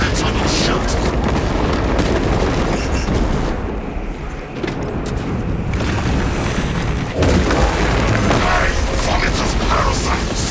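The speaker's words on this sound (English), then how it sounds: "Melter fire will cauterize and fuse their tunnel shut" Melter fire from Warhammer 40000: Space Marine 2 sealing a Xenos tunnel shut, heard as dense, loud, continuous roaring blasts and booming bursts with a brief dip in intensity midway, set against steady battle noise.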